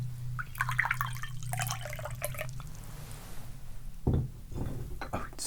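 Chai tea poured from a pot in a cozy bookshop setting, a soft close trickle with light clinks, and a brief louder splash near the end.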